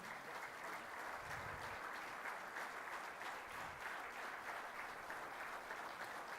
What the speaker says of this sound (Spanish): Con el aplauso de todos ustedes,